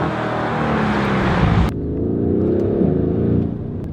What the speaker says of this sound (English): As soon as you put it in Sports Plus, the car really sounds so mean and aggressive